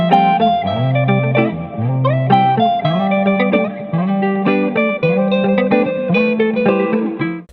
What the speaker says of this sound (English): And the melody loop sounds like this.